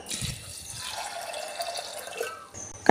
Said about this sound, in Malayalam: ഇനി നമ്മുടെ കടല വേകാൻ ആവശ്യമായിട്ടുള്ള വെള്ളം കൂടി ഒഴിച്ച് കൊടുക്കാം.